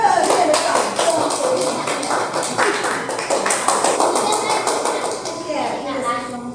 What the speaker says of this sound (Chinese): 大家给他热烈的掌声